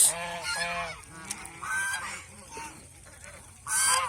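Geese on a goose farm honk loudly in several bursts close by, with quieter calls and gaps between the louder outbursts.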